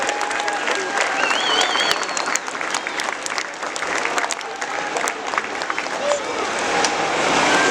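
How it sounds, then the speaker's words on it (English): A crowd applauds firefighter recruits from Werribee CFA after a car fire demonstration: steady, dense clapping that holds at an even level throughout, with a few faint voices and whistle-like tones over it. "Let's give them a big round of applause."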